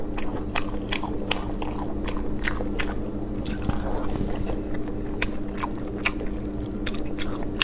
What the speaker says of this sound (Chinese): 我先来一口， 我再来一口，我来第三口。